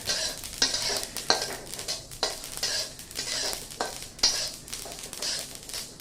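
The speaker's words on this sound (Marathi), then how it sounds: "तिळ असे उडतात बघा भाजले गेले की याची खूण आहे की तिळ भाजले गेले" Sesame seeds dry roasting in a pan crackle and patter in irregular bursts, stirred now and then, close and fairly quiet.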